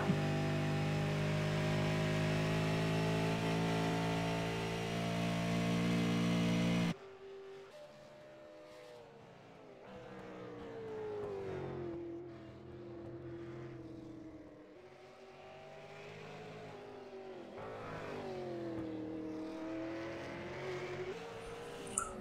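Race motorcycles in a MIRL Road Warriors race at Canadian Tire Motorsports Park accelerate out of a hairpin corner. A steady, loud engine drone cuts to rising and falling engine pitch as bikes pull away at moderate distance.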